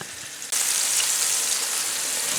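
A loud, steady sizzle of pork loin frying in a hot pan over a high gas flame starts abruptly and continues evenly, close by and alone.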